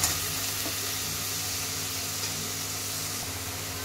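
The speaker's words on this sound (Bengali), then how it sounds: "পেঁয়াজ বাটাটাকে একটু লাল লাল করে ভেজে নেব।" Onion paste frying in oil in a pan, a steady, close sizzle running evenly throughout with no voices.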